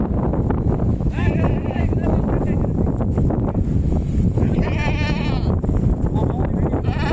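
Sheep bleat a few times over steady wind noise and rumble in rainy weather, with a couple of bleats standing out clearly in the middle.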